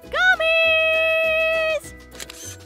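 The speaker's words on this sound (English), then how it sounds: "Group selfie!" A camera in an animated children's Mars rover episode takes a group selfie: a bright sustained electronic tone with a rising start, then a short click, close and clear.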